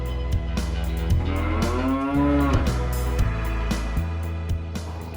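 A cow on a narrow muddy rural path in Odisha gives one long, loud, close moo, heard over a steady low engine hum and rattling from a vehicle on the road.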